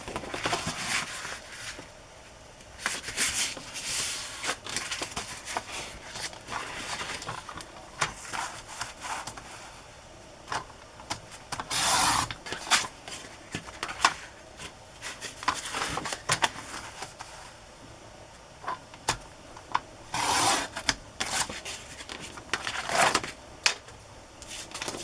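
Large sheet of paper for an oversized journal page being cut and folded, giving dry scraping, rustling and crisp rubbing sounds in irregular bursts, close and moderately loud, with a few sharper crackles along the way.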